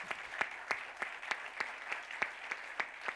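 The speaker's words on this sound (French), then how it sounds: "on vous applaudit" Audience clapping at an ecological and energy transition trophy ceremony, heard as steady, evenly spaced claps that merge into a moderate, rhythmic patter throughout.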